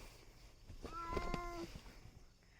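A pet cat gives a single drawn-out meow, moderately close and fairly quiet, over faint room noise with no talking.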